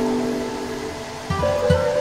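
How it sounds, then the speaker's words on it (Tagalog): Strong floodwater rushes steadily through a creek in typhoon-flooded Metro Manila, a constant close roar of churning water with a few brief louder surges near the end. "Oh, masyadong malakas ang pressure ng tubig."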